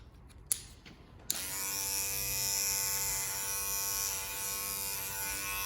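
Electric hair clippers fitted with a number 2 guard cutting around the hairline in a halo taper haircut, starting after a few clicks and then running as a steady, close, continuous buzz with a slight ratcheting drone.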